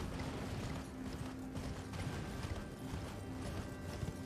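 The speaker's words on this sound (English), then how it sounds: "I need to ride the horse away from it for a second." Horse hooves clip-clop in a steady galloping rhythm while riding in a battle royale video game, with mechanical game sounds layered underneath and a constant low hum throughout.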